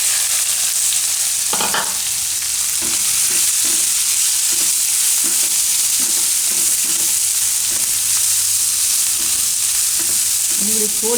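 Chopped onions sizzle steadily in hot oil with cumin and curry leaves for a Gujarati potato-onion curry, a continuous loud hiss broken by soft scraping stirs and a few light clinks, with no talking.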